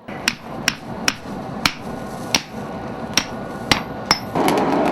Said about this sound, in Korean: 불에 달군 쇠를 다시 소리가 나도록 잇따라 세게 치고 접어붙이는 과정이 계속해서 반복되는데